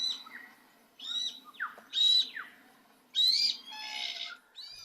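Glossy black-cockatoos give harsh, creaking calls in short bursts of three or four notes separated by pauses, fairly close and clear over a quiet background.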